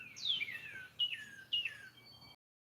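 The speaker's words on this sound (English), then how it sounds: "Oh, there's a pretty red bird." A red bird outdoors gives three descending whistled chirps about half a second apart, faint against a quiet background with no talking.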